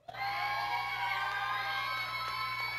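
A dance contest audience at a neighborhood final shouts, whoops and cheers continuously at close range, a dense, loud wall of crowd noise with a steady low hum underneath.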